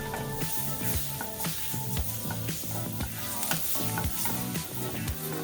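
Flour cooks off in a pan for a lemon and garlic cream sauce, sizzling continuously while a utensil stirs in repeated rhythmic scrapes, close by and alone.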